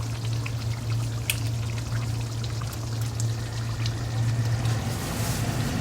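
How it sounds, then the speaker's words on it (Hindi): Water pours steadily into a pot of meat korma in a home kitchen, a continuous close splashing and trickling rush that stays loud and even throughout, with no talking. "इसमें पानी डालेंगे"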